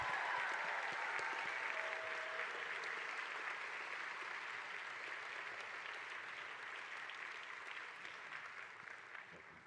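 Graduation audience applauding the Pineview class of 2025, a dense, steady wash of many hands clapping from a large crowd that holds for the whole stretch and eases off slightly toward the end.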